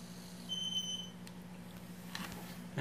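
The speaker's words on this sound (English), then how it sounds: "it beeps to let me know when it starts and finishes" An Arduino-controlled fish tank feeder gives a short electronic beep, a thin steady tone lasting about half a second over a low hum, heard nearby in a quiet room.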